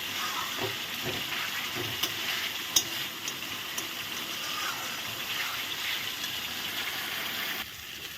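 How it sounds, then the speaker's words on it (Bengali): Spices frying for chana dal with sugar added, a steady, soft sizzle and hiss in a pan while it is being stirred, with a few faint scrapes and clinks and a brief louder tap partway through. "সব মশলা দিয়ে আমি এখন ভালো করে নেড়ে চেড়ে দিচ্ছি"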